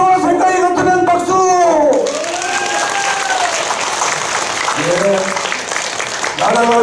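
A congregation at an emergency national fasting prayer meeting in a church association hall's main auditorium bursts into loud, dense applause mixed with crowd voices, a voice ringing over the start before the clapping carries on alone.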